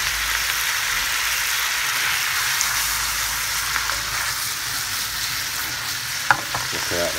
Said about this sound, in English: Now the winter chanterelles. Same thing, saute in butter.